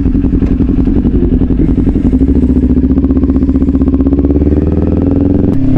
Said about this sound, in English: The Leo Vans exhaust, slip-on exhaust, sounds great.